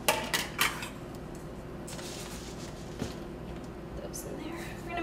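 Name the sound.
measuring oats into a bowl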